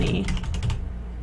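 Quick keystrokes on a computer keyboard, a short run of light taps close to the mic over a low steady background hum.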